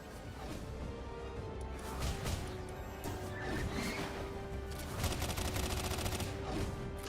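Steady gunfire and impact noises from an online indie shooter game keep up a dense, continuous rattle at moderate loudness, with no talking.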